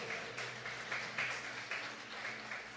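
Church congregation clapping during a sermon, a soft, steady wash of many hands applauding at some distance, sustained without speech.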